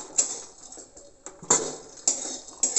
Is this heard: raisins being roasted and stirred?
yes